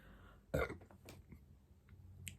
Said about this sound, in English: Sorry for burping.